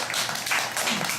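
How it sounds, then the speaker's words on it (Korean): A church congregation gives a short burst of dense clapping during a Sunday service, brief and fairly close. "박수."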